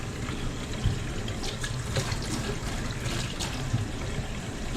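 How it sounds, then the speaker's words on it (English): Thai chilies get a rinse under a running kitchen tap for a lacto-fermented hot sauce, a steady hiss of flowing water into the sink with occasional splashy bumps, close and continuous with no talking. "You just want to give it a nice rinse under water."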